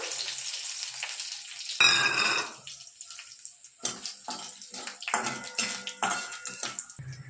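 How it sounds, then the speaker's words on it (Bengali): Spring onion greens and dried red chillies crackle and spit in hot oil in a kadai, a burst of sharp sizzling near the middle easing into bursty frying pops, close and fairly loud with no talking. "পেঁয়াজ পাতাগুলো একটু ভেজে নেব। এরপর আমি কিছুটা শুকনো লঙ্কা দিয়ে দিলাম"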